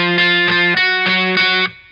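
An electric guitar with heavy distortion strums a chord pattern, loud repeated chord stabs in a steady rhythm that ring and then cut off at the end.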